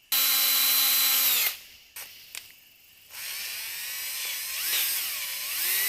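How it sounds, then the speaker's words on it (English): Cordless drill whining at high speed as it bores into a cast iron engine block during an LS engine swap into a Firebird, stopping, idling quietly, then spinning up again into a steady grinding drone. "the hole's already drilled and tapped on aluminum blocks. It's just the cast iron blocks where it's not"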